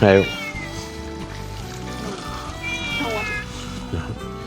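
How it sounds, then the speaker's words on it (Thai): A black farm cat on a vegetable farm meows loudly and up close, a few drawn-out cries in quick succession while someone talks over them. "ตัวนี้คือแมวประจำฟาร์มนะครับแมวดำ"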